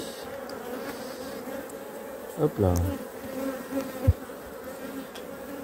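Honeybees swarm around an opened hive during a beekeeping inspection, a constant close buzzing hum with a short spoken remark and a couple of faint handling knocks.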